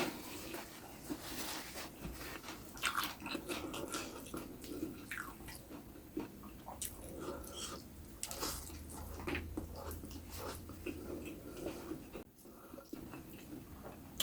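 Close, wet chewing and crunching of spicy tek tek noodles with crispy chicken, shallots and big chilies, a steady run of soft bites and squelches with no talking.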